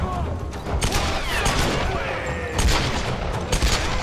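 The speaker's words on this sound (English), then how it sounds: "Shooting you in your ass." Gunfire in the Tomb Raider video game, a steady stream of overlapping shots and mechanical clatter at close range that rises in bursts near the end, with a voice briefly heard under the noise.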